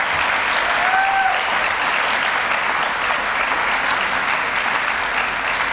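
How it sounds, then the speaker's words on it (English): Audience at a farm food event giving a round of applause, dense sustained clapping from a crowd, steady and fairly loud throughout with a brief whistle near the start. "today we need to give Catherine Russell a great round of applause for such a great event"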